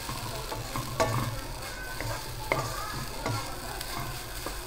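Leftover rice is stirred and fried into sinangag in a hot pan, a steady sizzle broken by scraping stirs and occasional utensil knocks, close and alone.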